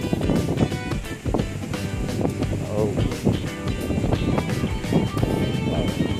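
Strong wind at Bolo Beach, Hundred Islands, buffets the microphone with a steady, rumbling roar, broadband and continuous throughout.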